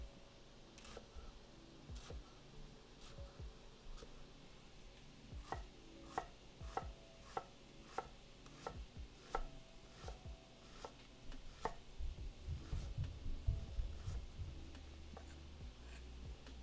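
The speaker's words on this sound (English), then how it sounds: "Okay, so fine diced onion." A knife finely dicing onion on a cutting board, with a run of crisp, fairly regular chops close by that speed up into a denser flurry toward the end, and no talking.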